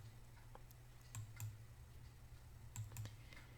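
A computer mouse clicking on map icons, giving a few quiet, sharp clicks spaced irregularly, some in quick pairs, over a low steady hum.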